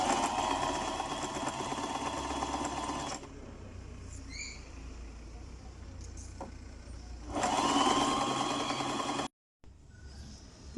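Domestic sewing machine running a straight stitch around the edges of fabric for a homemade cat bed, made from a wooden strawberry crate. Two loud, steady bursts of motor whir with a quieter pause between them.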